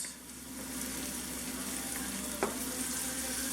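Garlic shrimp cooking in a pan for shrimp scampi, a steady, moderately quiet sizzle and fry that holds throughout, with one faint clink partway through.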